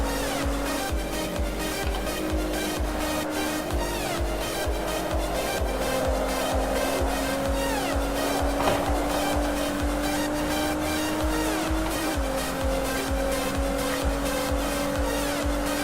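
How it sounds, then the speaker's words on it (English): An Audi R8 or Nissan GT-R sports car corners hard on a bumpy track, its engine droning loud and steady throughout with a continuous high-pitched tone and tire noise as it pulls around the bend. "you can get on the throttle while cornering, and the car will pull itself around the corner"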